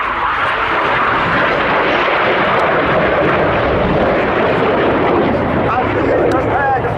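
Typhoon display jets at the RAF Cosford Airshow turning hard towards each other, a loud, continuous broadband engine roar filling the whole stretch with steady rushing intensity and an announcer's voice partly audible over it.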